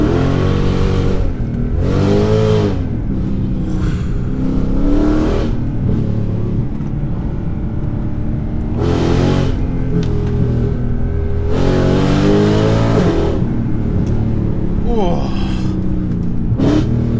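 A 2014 Mercedes C63 with its 550 bhp 6.2-litre V8 roars loudly from inside the car, surging through several revs and downshift blips. Someone talks over the engine noise in places.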